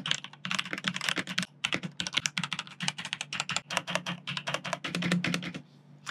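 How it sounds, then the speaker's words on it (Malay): Rapid typing on a Langtu GK102 wireless mechanical keyboard with Otemu Orange linear switches and PBT keycaps, a dense stream of close, crisp keystroke clacks with short pauses, no talking. "ini typing test untuk Langtu GK102 Otemu Orange switches, yang mana dia punya sifat tu sekali lagi linear."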